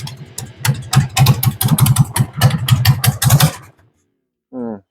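A 1998 Harley-Davidson Sportster engine fires up on a first start and runs with a loud, rapid, uneven lumpy rumble for about three and a half seconds, then cuts out abruptly into silence before a brief voice.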